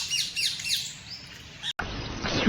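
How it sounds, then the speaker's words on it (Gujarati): Several shrill calls from large hill parrots ring out in quick succession at Sakkarbaug Zoo, then stop, leaving a steady outdoor hiss with a faint call near the end. "ખાલી કેવડા મોટા છે પહાડી પોપટ"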